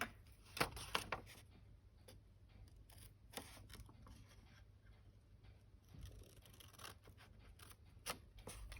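Scissors trim the edges of book paper from a 6 x 6 inch paper pad, giving quiet, close, crisp snips: a quick cluster early on, then sparse isolated cuts over a faint hum, with no talking.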